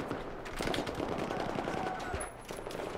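Dense rapid gunfire in the shooter game Battlefield 4, loud bursts packed together in a continuous fusillade lasting about three seconds, with no clear voice over it.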